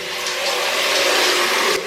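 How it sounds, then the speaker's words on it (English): A dish rinsed under a running kitchen tap, a loud steady rush of water splashing close by that cuts off abruptly near the end. "so just give it a rinse now"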